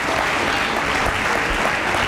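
A school audience claps at a 7th and 8th grade awards assembly, with a thick, even wash of hands that stays loud and close for the whole short stretch. No talking breaks through.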